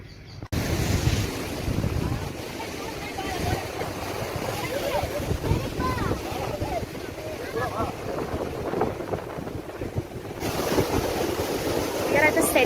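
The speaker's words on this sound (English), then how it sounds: "We are at the Serenity Beach right now" Ocean waves and wind at Serenity Beach make a continuous rushing roar with heavy gusty wind buffeting the microphone. The noise is loud and close, and voices are faintly mixed in.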